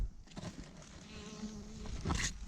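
A steady bee buzz hums close by on a farm, with faint soft rustling and a brief louder swell near the end; no one speaks.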